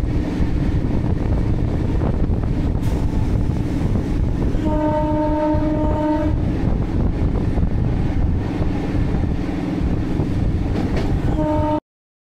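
Local train between Baruipur and Diamond Harbour on the Sealdah line, a steady loud rumble and rattle of rolling carriages with wind buffeting, a long horn blast sounding mid-run and again before it cuts off.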